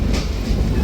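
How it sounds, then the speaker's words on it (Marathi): A passenger train on the Satara to Pune line rumbles along with a dense, steady low roar of wheels and carriage noise. "आता आपली ट्रेन निघालेली आहे"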